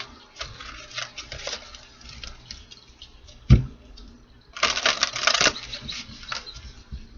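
Oracle reading cards being shuffled: scattered soft riffling clicks, a sharp tap midway, then a denser burst of flicking card noise, close and fairly quiet with no talk.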